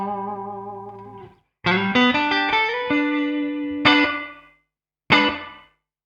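Guitar chords played through a ToneX One pedal ring out drenched in plate reverb set to maximum, each strum leaving a long shimmering tail that decays slowly into silence.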